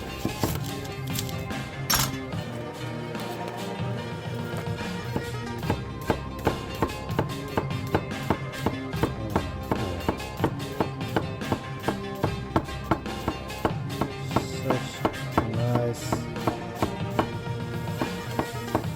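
A very sharp Teruyasu Fujiwara Denka nakiri slicing through a shallot on a board, giving a quick, even run of close tapping cuts over steady background music, with no talking.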